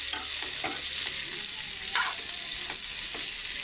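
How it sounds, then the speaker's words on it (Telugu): Ridge gourd peels frying and being stirred in hot oil in a pan: a steady sizzle with scattered scraping stir sounds and light clinks, close up, with no talking. "ఇప్పుడు ఇలాగ ఇది కూడా ఆయిల్లో వేసుకుని ఫ్రై చేసుకోవాలండి."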